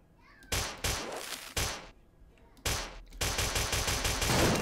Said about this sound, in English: I like to pop some extra warning shots